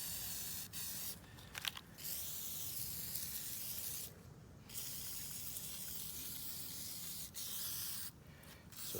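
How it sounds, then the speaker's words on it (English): Repeated bursts of WD-40 aerosol spray hiss over the metal parts, bearings and joints of a Tekno SCT410.3 RC short-course truck after it was pulled from water, several short and longer blasts close up with brief pauses between them. "just douse it in WD-40"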